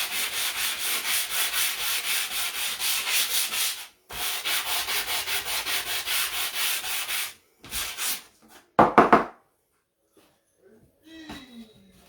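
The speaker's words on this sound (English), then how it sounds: "Sand the back a little bit too." Wooden cutting board shaped like a church having its back sanded, a steady rasping rub in long strokes that stops briefly, resumes, then gives way to a few short scrapes and quiet handling near the end.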